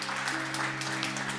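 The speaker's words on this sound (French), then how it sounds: "Vous pouvez applaudir le Seigneur." A church congregation applauds during worship, a fairly quiet, even patter of many hands clapping together, heard alone and briefly.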